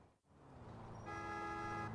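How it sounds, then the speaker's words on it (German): A car horn honks once in GTA IV with the LCPD:FR police mod, a sustained toot of about a second rising over steady engine and traffic rumble, with no talk. "Hupen einen sogar die Kollegen schon an."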